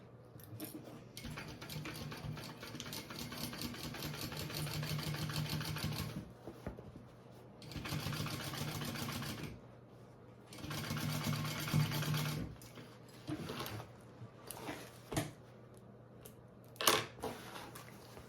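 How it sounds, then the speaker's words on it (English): A sewing machine stitching a travel tote bag runs in several bursts of rapid, even whirring, separated by short pauses and soft handling clicks, close and clear with no talk. "I'm gonna go ahead and sew that up."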